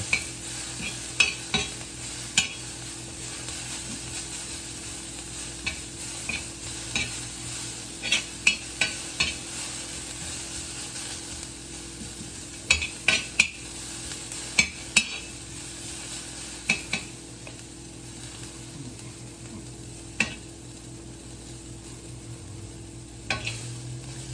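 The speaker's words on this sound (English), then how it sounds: "So now it's a saute, little bit." Food sautéing in a pan, a soft continuous sizzle broken by frequent sharp scrapes and clinks of a utensil stirring against the pan, with no talking.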